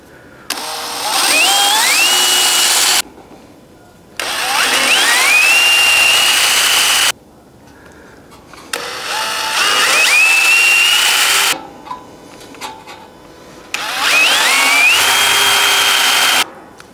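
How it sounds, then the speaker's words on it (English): Power drill boring holes through a metal front fascia on a 1970 El Camino, four loud bursts of a few seconds each with rising whine as the bit spins up and bites, separated by short quiet pauses. "get the holes drilled here."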